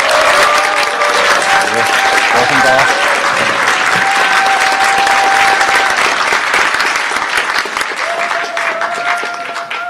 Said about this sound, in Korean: 지지와 힘을 주시는 큰 박수와 환호 다시 한번 부탁드립니다